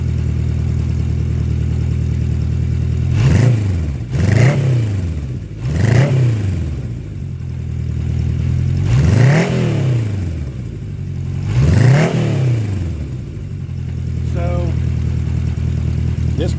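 Engine of a 1977 Honda CB750A Hondamatic motorcycle revs up and falls back five times in close, loud blips over a steady idle, with a voice speaking over it.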